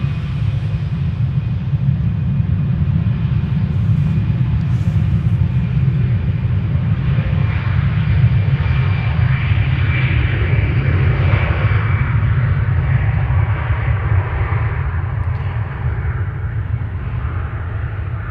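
An Iberia Express airliner bound for Madrid takes off from Schiphol, a broad, steady jet roar and low rumble holding loud for many seconds before easing slightly as it departs.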